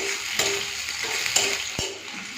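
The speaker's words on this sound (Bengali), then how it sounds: "তো তেলের মধ্যে দিয়ে দিচ্ছি কালো জিরো ফোড়া দিয়ে দেবো পেঁয়াজ কুচি পেঁয়াজটাকে একটু লাল করে ভেজে নিই" Chopped onion frying in hot oil with black cumin, a bright continuous sizzle broken by a few clear scraping strokes of a spatula against the pan.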